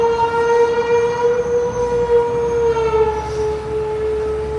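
Train crossing the Williamsburg Bridge between Brooklyn and Manhattan, heard close and loud as a sustained tonal screech of wheels with a deep rumbling roar beneath, steady throughout.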